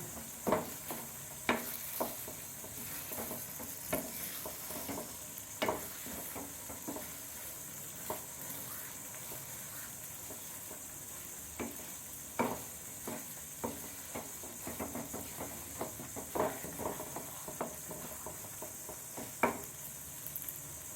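Rava kesari, a semolina sweet, is stirred in a pan on the stove: quiet, irregular scraping strokes of the spoon repeat over a soft, constant sizzle, with no voices.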